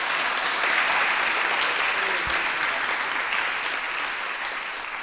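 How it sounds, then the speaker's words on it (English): Sustained audience applause at an evening Nityananda Trayodasi gathering, a dense wash of many hands clapping together, loud and continuous throughout, easing slightly toward the end. "Kindly give him a big round of applause."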